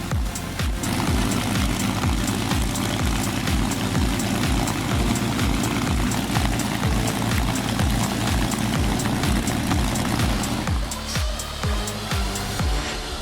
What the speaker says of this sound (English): the restored Packard V12 Merlin engine roars to life for the first time, unleashing a powerful growl